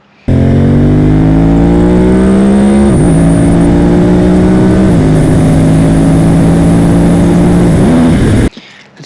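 A Suzuki TL1000R V-twin sport bike, with a quick shifter that misses shifts into fifth and sixth gears, roars loudly and close under hard acceleration toward the red line, its engine note climbing steadily with brief dips at each shift.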